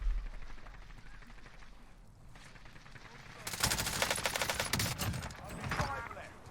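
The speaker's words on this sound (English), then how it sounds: "I hear shots to my right." Distant gunfire crackles in a Warzone Caldera match, with bursts of automatic shots growing louder and denser over steady battlefield background noise.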